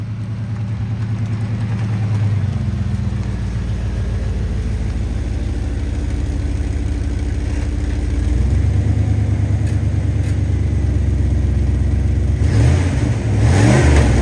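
A 1988 IROC-Z Camaro, long unrun, idles loud and close, its engine note rising and falling through several revs before settling back to a rough, steady idle; no voices.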